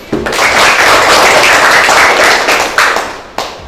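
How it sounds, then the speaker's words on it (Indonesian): A classroom full of students claps together in dense, loud applause that holds steady, then stops abruptly near the end with a couple of final claps. "Tepuk tangan buat Lulus."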